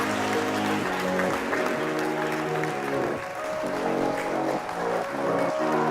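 Audience at Nokia Bell Labs' Hamming Innovation Hall applauding to welcome a speaker, dense crowd clapping layered over loud sustained music chords, steady and full throughout.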